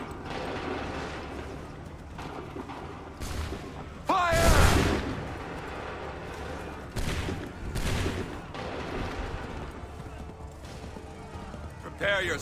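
Musket volleys fire on command in the video game Assassin's Creed III Remastered: loud, crackling bursts of massed gunfire a few seconds apart over mechanical rattling and hoofbeat-like clatter, with voices heard in the mix.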